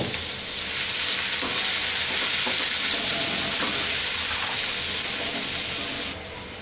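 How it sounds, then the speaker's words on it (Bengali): Chopped onions fry in oil in a pan while being stirred, producing a loud, continuous sizzle with scraping stir sounds, for a Bangladeshi rohu fish and potato curry; no one speaks. "এই একই তেলের মধ্যে আমি কতগুলা পেঁয়াজ কুচি দিব দিয়ে পেঁয়াজ কুচিগুলোকে একটু ভাজবো"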